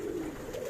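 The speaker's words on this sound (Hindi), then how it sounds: "कबूतर तो माशाल्लाह बहुत हैं" High-flyer pigeons coo at a rooftop loft in Karachi, a low soft continuous coo, faint and close, with no talk.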